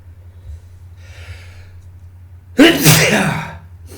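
A single loud, close sneeze bursts out after a quiet intake of breath, with no talking around it.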